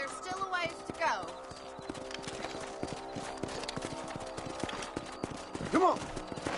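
Horse hooves clip-clop in a steady rhythm in a video game while people talk over them, with a brief whinny near the start and another later.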